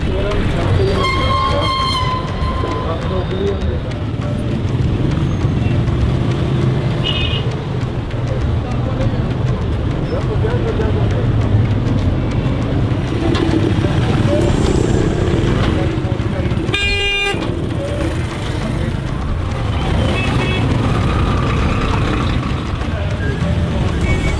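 Heavy street traffic in Lahore: a loud, continuous wash of engine rumble and road noise, with repeated horn blasts rising above it, including one sharp burst partway through.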